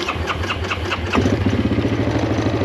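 A four-wheeler ATV engine with an unclear fault and running hot sputters, then settles into a rough, pulsing idle close by, loud and steady with no talking.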